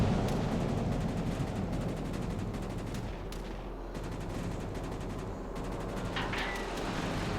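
Naval guns blasting in a warship battle game as a cruiser exchanges fire, heavy booming salvos over a constant rumble of engine and sea noise, with sharper reports toward the end.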